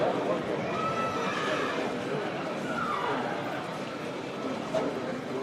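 A young colt whinnies at a yearling horse auction, a couple of short neighs heard over a busy crowd murmur and ongoing auctioneer speech, with faint hoof sounds.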